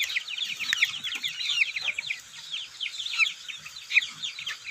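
Lad Daeng native chickens cluck steadily in a busy chorus, overlapping calls repeating throughout with some louder, sharper notes standing out.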